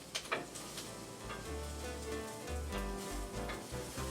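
Brussels sprouts sizzle steadily in a hot pan, a continuous close frying hiss with faint low background rumble.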